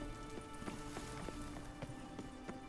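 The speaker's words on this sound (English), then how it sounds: "I like rain. Keeps the rogues indoors." Steady rain patters in The Witcher 3, a dense even hiss with scattered sharper drops and faint clip-clop hoofbeats underneath, quiet and continuous.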